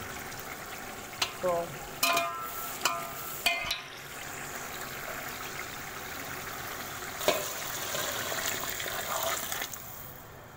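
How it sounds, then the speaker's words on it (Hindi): Water is poured into a pan of frying potatoes and peas for pea pilau. A few utensil clatters come first, then the sizzle rises into a sustained hissing gush, with a brief spoken word. "अब मैं इसमें पानी डाल लेती हूँ, पानी मैंने नाप के गर्म करके रख लिया है।"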